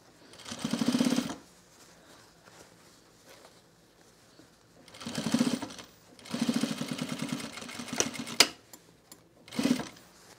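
A sewing machine back-stitches on a men's utility jacket in several short bursts of rapid stitching, close and fairly loud, separated by quiet pauses with small handling clicks.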